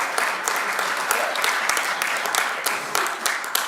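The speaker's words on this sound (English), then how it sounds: "you can clap for that" An audience applauds at a US India jewelry industry trade symposium, a dense, sustained patter of many hands clapping at once, fairly loud and steady throughout.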